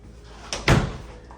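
Back door of a manufactured home closing, a single solid thud with a short latch click just before it, close and fairly loud in a quiet room.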